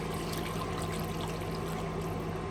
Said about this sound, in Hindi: तो इसमें डालते हैं पानी।